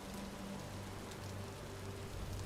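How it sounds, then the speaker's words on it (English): Steady rain in the game Vintage Story, a continuous soft hiss with a low hum beneath, even and unbroken throughout. "enjoy the sounds of the rain for a bit"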